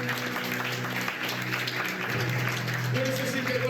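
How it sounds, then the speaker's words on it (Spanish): A church congregation applauds steadily throughout, a dense wash of clapping under a continuous murmur of voices and music. "Dale tu aplauso al Señor"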